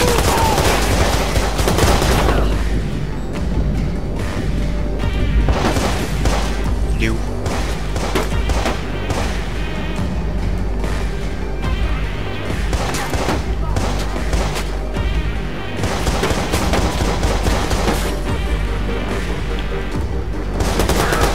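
Bursts of automatic gunfire in Watch Dogs rattle on and off in dense, loud volleys with crashes and booms mixed in, while a voice talks at points.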